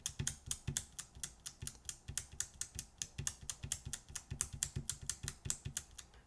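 Rapid, steady typing on an over-lubed mechanical keyboard, its keystrokes close and crisp in a dense, even rhythm with no talking.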